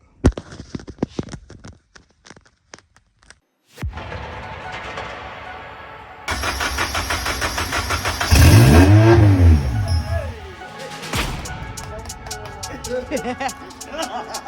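A big Cummins ISX diesel truck engine idles, then roars as it's revved hard several times, loud and close, with clanking and rattles around it.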